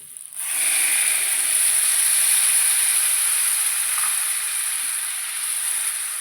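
Curry leaf paste drops into hot oil with a sudden loud hiss that settles into a steady, sharp sizzle, continuing alone without talk for several seconds.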